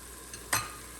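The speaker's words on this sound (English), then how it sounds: "we'll give it a stir" Rajmah ingredients with red chili, amchur and salt get a single quick stir in an Instant Pot on saute, a short scraping swish standing out close over a faint steady background hiss.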